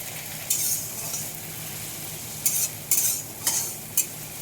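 Ginger, cumin, coriander and dried chilli paste stirs in a pan, with a steady low sizzle and a few sharp spoon scrapes and clinks landing near the end.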